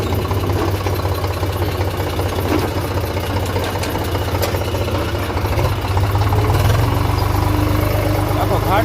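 A tractor rumbles continuously with a deep, shaking engine drone while travelling over a rough, uneven village road. The noise stays close and loud throughout, with some speech mixed in.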